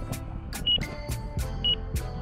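An RC transmitter's flight timer, flying an E-flite Apprentice S 15e outdoors, gives two short, thin electronic beeps about a second apart over gusty wind and rustling.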